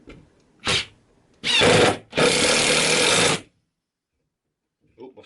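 A Bosch PDR 18 LI 18-volt cordless impact driver drives a drywall screw into wood in three close bursts, a short whir and then two longer loud rattling hammering runs, followed by silence.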